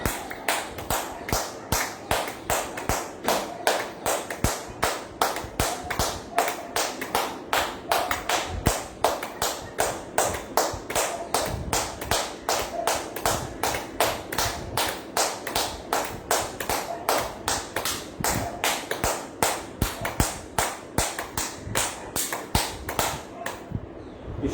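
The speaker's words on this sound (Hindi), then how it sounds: "सातवीं क्रिया, ताली बजाएंगे।" Hands clap rapidly and evenly during a yoga exercise, a long run of sharp, close claps at a fast steady rhythm with only brief pauses, and no talk over them.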